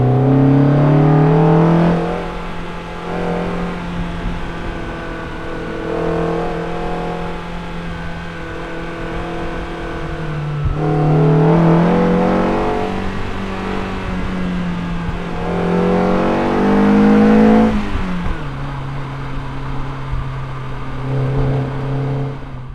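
BMW E30 M3 engine revving toward 7,000 rpm, a rising and falling wail repeated through several gear pulls with clear shifts between them, loud and close as heard from inside the car.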